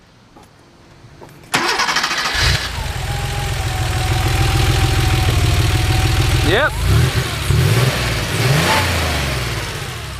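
A 1988 Porsche Carrera Targa cranks and fires up loudly at close range, then idles with a few sharp throttle blips and revs. One person briefly speaks over the engine.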